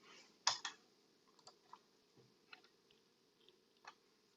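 Computer keyboard typing, a handful of faint, irregular clicks and taps spread over a few seconds in a quiet room with no talk.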